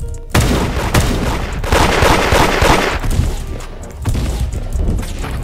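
Gunfire in the Roblox game Da Hood: loud, dense bursts of rapid shots and booms, cutting out briefly and then resuming in clustered volleys.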